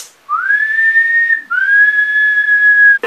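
Clear close whistling from a reggaeton remix: two long sustained rising whistle notes, loud and prominent, with a brief break between them and nothing else underneath.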